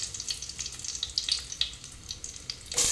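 Curry leaves crackle and sizzle in hot ghee, a continuous close frying hiss with small popping bursts, quiet overall, ending with a brief louder splash of sizzling.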